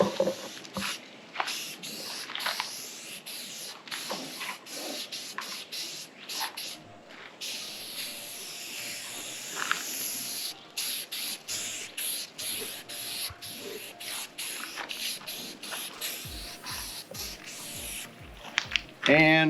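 Spray paint hisses out in repeated bursts as an automotive-quality satin finish is laid down, the short sprays separated by brief pauses, fairly quiet and close.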